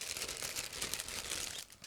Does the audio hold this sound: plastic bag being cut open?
yes